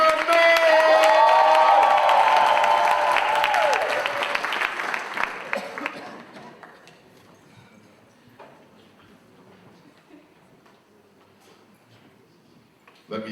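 Loud applause and cheering from a crowd at a live Pan-African anniversary commemoration event in Manchester, England, swelling at first and then fading to scattered claps and murmurs.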